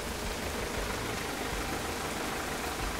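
Rain falling steadily outside a parked camper van on sandy ground, a dense continuous hiss of drops drumming on the roof and surroundings, even and unbroken throughout with no voices.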